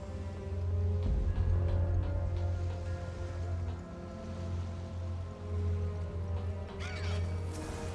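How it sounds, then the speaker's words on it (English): Crows cawing in the video game Final Fantasy XIV, several harsh calls over a loud, steady ambient drone, with a louder burst near the end. "Oh, more birds."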